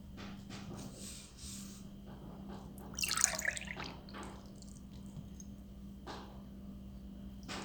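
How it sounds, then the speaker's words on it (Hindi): Water is poured into a cup, a brief close splash lasting about half a second in a quiet room with a low steady hum. "आइए इसमें हम अब पानी डालें।"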